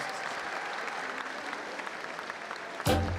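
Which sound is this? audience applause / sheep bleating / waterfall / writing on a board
audience applause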